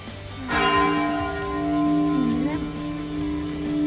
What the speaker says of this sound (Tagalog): Yan, tumutunog na yung kampana.